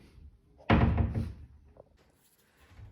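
A flat-pack Jysk Billund wardrobe door swings shut against glued-on bumper pads, giving one dull, muffled thunk up close, followed by a faint small knock and quiet room sound.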